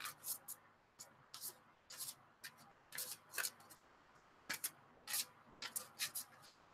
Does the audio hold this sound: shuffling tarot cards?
yes